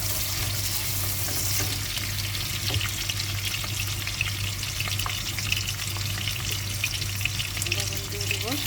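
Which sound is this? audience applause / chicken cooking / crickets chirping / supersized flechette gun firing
chicken cooking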